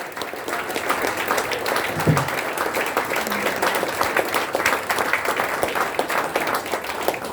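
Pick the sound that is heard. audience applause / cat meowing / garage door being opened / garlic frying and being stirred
audience applause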